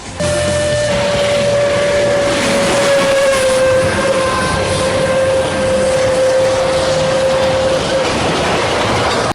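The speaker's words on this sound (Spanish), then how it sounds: "Allí se encuentran los talleres del ferrocarril a vapor más austral del planeta, la Trochita." A steam locomotive of La Trochita, the world's southernmost steam railway, sounds one long, loud, steady whistle blast lasting about seven seconds, backed by a constant hiss of steam and rail noise.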